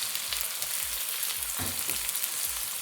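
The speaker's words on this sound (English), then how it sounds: "let the onions fry till it has a very slight golden color" Chopped onions frying in hot oil with fennel seeds in a pan, for baingan bharta: a steady, close crackling sizzle with a brief burst of spatter partway through, constant and unbroken, no one speaking.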